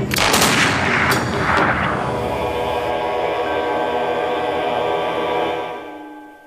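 Gunfire from a firearm in a Thai film: a few loud, sharp shots in the first two seconds, each with a long reverberant tail, then a sustained ringing decay that fades out, with no talking.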